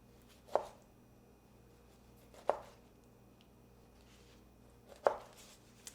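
A knife slicing through citrus fruit with the rind on, three quiet, crisp cuts spaced a couple of seconds apart against a hushed background.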